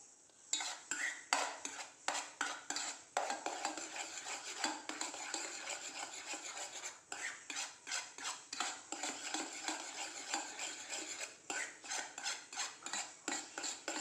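A spoon stirs briskly in a bowl of egg batter with cornflakes mixed in, giving steady repeated scraping and clinking strokes close by with no talking.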